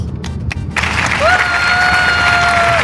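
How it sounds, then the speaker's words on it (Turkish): A small group claps in a casual vlog setting. A few sharp, separate claps come first, then a steady noisy wash of clapping continues, with a faint whistling tone over it. "Bir alkış."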